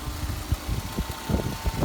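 Engine of a car more than 25 years old idling before it has fully warmed up, a steady low rumble with soft irregular pulses, close and alone with no talking.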